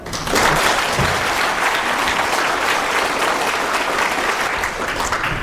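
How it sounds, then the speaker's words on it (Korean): Dense, loud applause from a lecture audience at a tax office workshop talk, a steady wash of many hands clapping that swells in quickly and holds evenly throughout, with no voices over it. "박수 한번 칠까요?"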